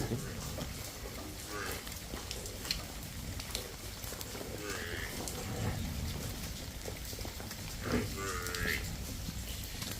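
Buffalo and cows on a rainy dairy farm, with a freshly calved buffalo among them, give several low lowing calls at mid distance over steady rain-like background noise, with faint voices in the background.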